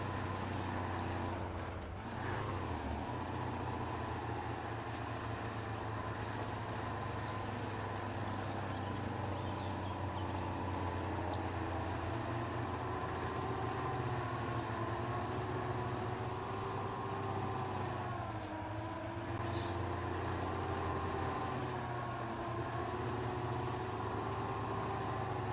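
A heavy KhTZ T-150K tractor engine in the video game Spin Tires rumbles steadily at low pitch, with slight shifts in revs as it drives; no talking.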